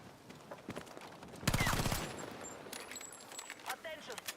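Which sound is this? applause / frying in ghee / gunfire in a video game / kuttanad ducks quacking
gunfire in a video game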